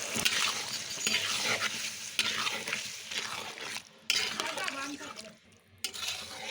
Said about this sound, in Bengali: এবার মটরশুঁটি দিয়ে এবার ভেজে রাখা আলু দিয়ে ভালো করে কষিয়ে নিন